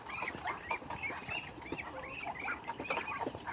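Chinese ducks and their ducklings call on a farm, a busy, fairly faint chorus of quacks and peeping chirps overlapping in quick irregular bursts, with no talking.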